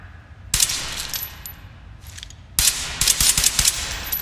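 Rifle gunfire at targets in the tactical shooter video game Ready or Not, a single sharp crack followed later by a quick string of rapid shots with metallic clinks, close and crisp against quiet background.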